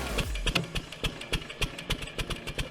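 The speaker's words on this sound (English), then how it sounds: "This classic wood splitter, it features a massive engine with a smaller backup engine mounted on top." A classic wood splitter with a massive engine and a smaller backup engine mounted on top runs steadily, its close, loud mechanical chugging pulsing in a quick irregular rhythm with no talk.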